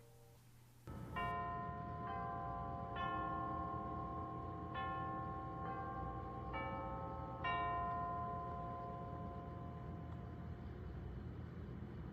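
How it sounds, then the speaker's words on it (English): A Klydoclock clock plays its hourly chime softly: a sequence of clear bell-like tones, each ringing and fading into the next over a low hum, with no ticks standing out. "Klydoclock also allows you to adjust the levels of both the ticks and the hourly chime."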